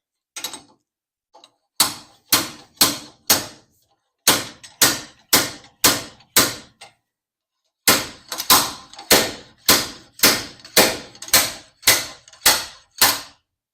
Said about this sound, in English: So you put it in there and then turn it sideways and then use the slide hammer.